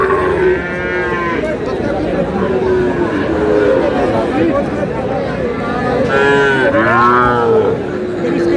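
A Sahiwal bull lows at a Munshiganj cattle market, with a couple of long, drawn-out moos near the start and again toward the end, rising over constant crowd chatter and people talking nearby.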